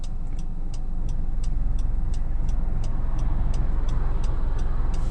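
Inside a 2013 Honda CR-V EX-L on the road, steady low tire and engine rumble fills the cabin while a crisp turn-signal tick repeats at an even pace throughout.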